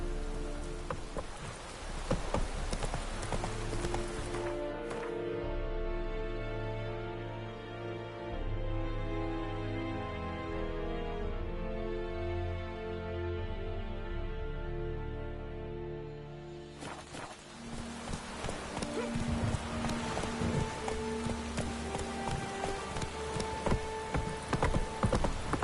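Roach the horse galloping in The Witcher 3, steady rhythmic hoofbeats under rain with a sustained musical tone swelling in the middle, then clattering hooves returning loud and close toward the end.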